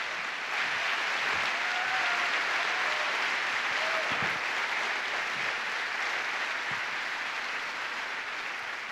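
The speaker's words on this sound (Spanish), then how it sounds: "Dele fuerte ese aplauso al Cristo de la gloria." A church congregation applauds during an evening Sunday service, a steady, dense wash of clapping that holds for the full stretch at fairly close range, with faint voices occasionally rising underneath.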